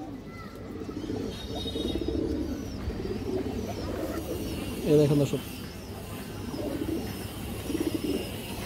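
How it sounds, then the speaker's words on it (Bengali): Black-necked pigeon cooing in short bursts near mid-clip, with softer coos around it, while someone talks over it throughout. "এটা মূলত কালো গলা কবুতর"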